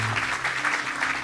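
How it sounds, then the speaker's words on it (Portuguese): Audience applause at a Portuguese-language interview event, a short continuous burst of clapping, fairly close and steady, with a low hum or tone running underneath. "Vamos dar uma salva de palmas"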